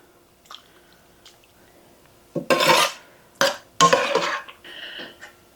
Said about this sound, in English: We're going to go ahead and scoop in the filling.